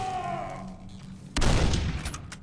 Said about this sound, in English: I'm gonna shoot your ass.